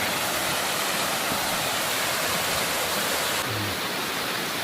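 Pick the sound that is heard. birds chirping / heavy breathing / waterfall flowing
waterfall flowing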